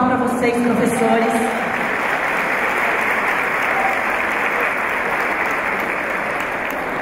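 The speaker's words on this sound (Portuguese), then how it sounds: "Uma salva de palmas para vocês, professores." Loud, sustained applause from an audience at a representatives' meeting about civic-military schools, given for teachers; steady dense clapping with faint voices mixed in at the start.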